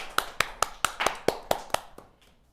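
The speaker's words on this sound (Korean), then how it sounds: "박수!" Science-high-school students clap in a chemistry classroom, about eight sharp, evenly spaced claps in a quick rhythm that trail off, close and fairly loud with no talk.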